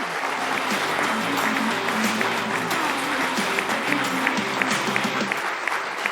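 A studio audience on an Italian sports programme gives steady, even applause throughout, a continuous close patter with a faint low musical hum underneath.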